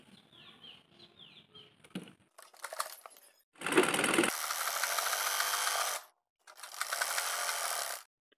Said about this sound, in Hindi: किनारे पर सीधी सिलाई और कर देंगे।